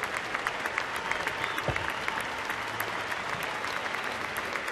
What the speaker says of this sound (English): Let's have a warm round of applause for Master Chief Lubeski and all of our brav